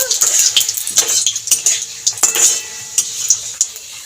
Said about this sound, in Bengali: ফোড়নটাকে নেড়ে চেড়ে ভেজে নেব